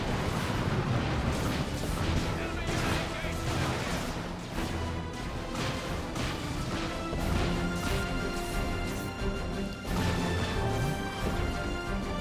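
Soldiers fire on each other in the real-time strategy game Dawn of War, a dense, continuous din of rapid gunfire, crashes and impacts that never lets up.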